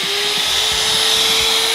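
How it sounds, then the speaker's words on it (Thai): An InnTech ETN-370 trimmer motor runs at a constant high-pitched electric whine, close and steady throughout, with no speech. "ทริมเมอร์จาก Intech ETN 370ครับลองเปิดเครื่องฟังเสียงดูซะหน่อย"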